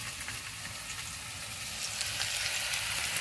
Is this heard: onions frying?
yes